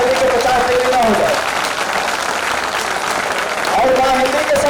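Dense audience applause at a Hindi poetry gathering, a steady roar of clapping hands that runs the whole way through, with faint tonal sounds rising briefly above it near the start and end.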